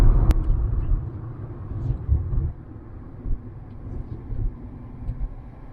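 Low, steady road rumble fills a moving car's cabin, with a sharp knock at the start and mild swells in the drone throughout.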